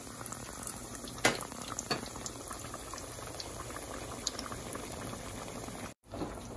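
Chimichangas frying in hot oil, a continuous close bubbling sizzle with scattered pops and crackles, briefly dropping out near the end.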